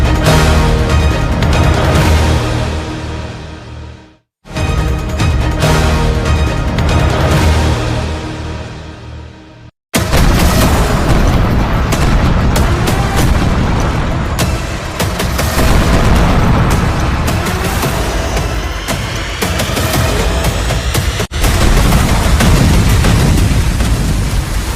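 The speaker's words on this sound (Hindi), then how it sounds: "जंगी जेट से बरसे बम जब धरती पर फट रहे हैं" Bombs dropped by fighter jets explode in a war strike, a sustained, very loud roar of blasts and rumbling that continues across the clip and is cut by a few abrupt breaks, with no speech.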